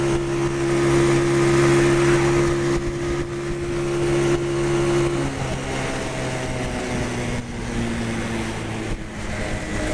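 Steady engine drone from a Pioneer Torro XF125S 125cc motorbike while riding, a droning tone that shifts pitch partway through as the revs change, with wind noise and no talking.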